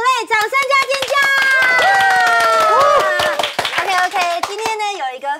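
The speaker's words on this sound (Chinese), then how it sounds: "掌声加尖叫" An audience at a Google Play live event claps and cheers, sharp repeated hand claps mixed with shouting and excited voices throughout.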